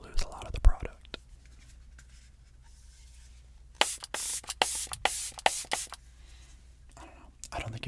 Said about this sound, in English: I feel like I'm wasting product with how much I spray, but I need to cover my face with it.